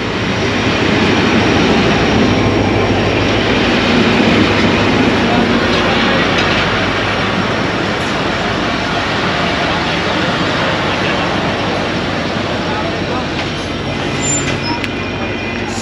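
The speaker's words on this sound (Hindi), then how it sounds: "अब शाह लतीफ़ एक्सप्रेस पहुँच रही है और इसकी लीड पर है आज 8204 लोकोमोटिव।" The Shah Latif Express rolls into a station in Sindh, hauled by locomotive 8204, a loud, steady roar of engine and wheels that holds throughout, with voices faintly underneath.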